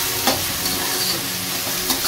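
Chopped onion and tomato sizzle loudly in hot oil tempering for vegetable pulao, a steady close-up frying hiss with a couple of brief stirring scrapes and no voices.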